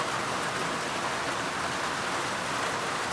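Steady rain falls on a village after a long drought, with a dense, even hiss of drops on a surface, constant and fairly close, with no voices.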